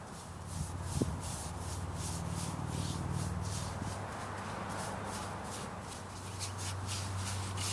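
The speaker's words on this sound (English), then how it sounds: "Just do a quick little sand down and then just brush it on." Hand sanding of outdoor log furniture outdoors, a quiet rhythmic rasping of abrasive strokes repeating about twice a second over a low background hum, with a faint knock near the start.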